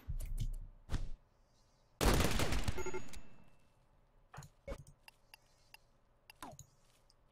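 Gunfire in a Rimworld colony battle: a few sharp isolated shots, then a loud dense burst lasting about a second that fades out, followed by scattered crisp clicks and pops.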